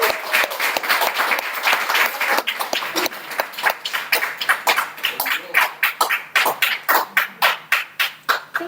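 A room of listeners at an English-language speakers' event applauds loudly; clapping is dense at first, then thins into distinct, rhythmic individual claps that gradually slow toward the end.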